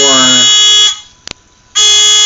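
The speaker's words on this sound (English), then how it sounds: "Oh, that is why the buzzer" A loud, harsh electronic buzzer on a fischertechnik line-following robot blares, stops briefly with a couple of small clicks in the gap, then sounds again.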